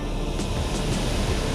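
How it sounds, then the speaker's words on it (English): A steady, broadband rush of water at MacMay Waterfall, Georgetown, St. Vincent, roars continuously without pause, loud and close, with no voices. "we are here at the waterfall."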